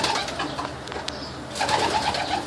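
Young tippler pigeons coo softly in a loft, overlapping low calls repeating close by against a steady background hum.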